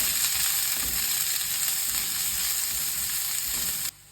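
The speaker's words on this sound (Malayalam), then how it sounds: "നമ്മുടെ സവോള, ഇഞ്ചി, പച്ചമുളക്, കറിവേപ്പില. എന്നിട്ടൊന്ന് ഇളക്കി കൊടുക്കുക." Onion, ginger, green chili and curry leaves stir-frying in a pan for tuna cutlets, a continuous bright sizzle close up, steady and loud until it stops abruptly at the end.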